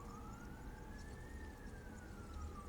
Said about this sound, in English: there's some loud sirens outside